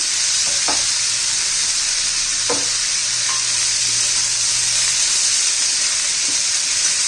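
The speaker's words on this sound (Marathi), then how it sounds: "चांगलं मी आता दोन तीन मिनटं परतून घेते याच्याला" Abhay bean pods sautéing in hot oil give a loud, constant sizzle that fills the whole stretch, with a few faint scrapes and knocks of stirring over it.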